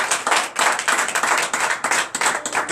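Church congregation clapping and acclaiming together, dense rhythmic handclaps with cheering voices, loud and close throughout.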